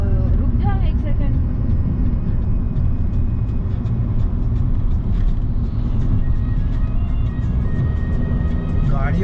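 Road traffic on a highway, a loud continuous roar of vehicles rushing past close by, with people talking over it.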